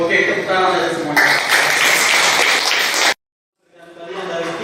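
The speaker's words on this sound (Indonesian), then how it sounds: "Oke, tepuk tangan saja semuanya." Students in a classroom clap together, a dense burst of applause lasting about three seconds that cuts off abruptly, then resumes more faintly after a short silence.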